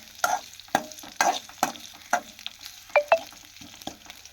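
Small onions sautéing in a pan: sizzling with repeated scraping stirs of a spatula against metal, sharp irregular clinks over a soft frying hiss.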